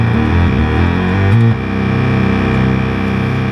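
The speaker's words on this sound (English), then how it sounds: "You can hear that real low end you can get now, bringing that oscillator 2 all the way down." A Realistic/Moog MG-1 synthesizer with oscillator 2 tuned all the way down plays a loud, buzzy low bass tone with a shifting pitch partway through, sustained alone for a few seconds.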